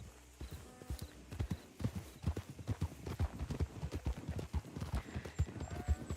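Horse hooves clip-clop steadily on the ground in Red Dead Redemption 2, a close, brisk rhythmic run of hoofbeats lasting throughout, with no talk over it.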